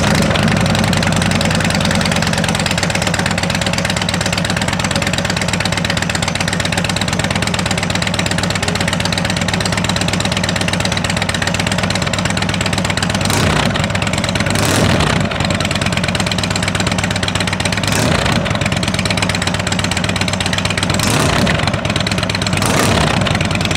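A 2022 Indian Chieftain Limited motorcycle with new Rinehart exhaust pipes idles steadily and loudly throughout, a deep continuous rumble with a few brief throttle swells near the end.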